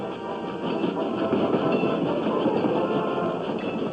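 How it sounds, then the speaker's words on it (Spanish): A train loaded with soldiers rumbles along the rails in a steady, loud, continuous roll with faint clatter, heard alone without voices. "Los trenes repletos de soldados se acercaban a la capital."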